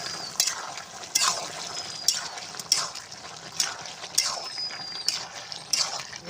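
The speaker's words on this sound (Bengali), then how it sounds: "ভেজে রাখা মাছগুলো দিয়ে দেব।" Fried puti fish are added to a pot of bottle gourd and potato cooking in a village Bangla-style dish, with a series of metallic clinks of a utensil against the pot over a soft simmering background, close and moderately quiet.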